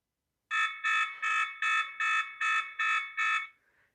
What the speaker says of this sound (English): your camera will automatically make that alarm noise to hopefully alert that you have a camera there and alarm's going off